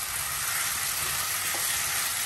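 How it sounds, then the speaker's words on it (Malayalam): Chinese potato stir-fry sizzles steadily in a hot, oily pan as it is stirred, giving a close, continuous hiss and crackle. "നമുക്കിതൊന്ന് ഇളക്കി ചേർത്ത് കൊടുക്കാം"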